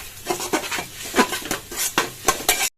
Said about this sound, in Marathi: आता टाकू आपण टमॅटो टमॅटो घेऊया चांगलं